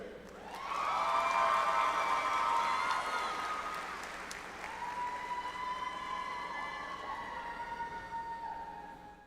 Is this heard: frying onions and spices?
no